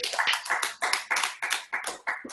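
Clapping from online meeting participants unmuted after a PhD dissertation defense: a few pairs of hands clap in separate, uneven bursts, thin and close, as if picked up through laptop microphones.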